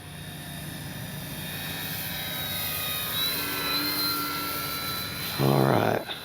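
A Dynam F6F Hellcat RC model warplane flies overhead with an electric motor whine shifting in pitch through a snap roll, heard from a distance outdoors, with a short louder burst near the end.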